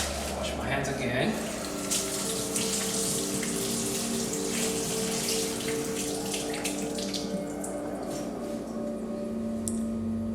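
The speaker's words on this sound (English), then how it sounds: "Wash my hands again." Hands being washed under a running kitchen tap, a steady close stream of water splashing continuously throughout, with a faint ticking alongside.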